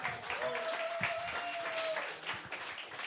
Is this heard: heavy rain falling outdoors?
no